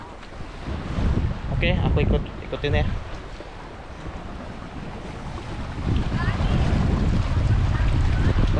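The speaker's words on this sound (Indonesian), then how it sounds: "Itu kapal kita." A small boat off Gili Bidara island in East Lombok sits on the sea while strong wind buffets the microphone and waves wash steadily around it, a continuous rushing roar throughout, with people talking briefly over it.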